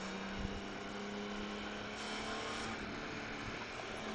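Honda Goldwing motorcycle engine running steadily with a constant low hum and a strong broadband drone, loud and close throughout, with no voices.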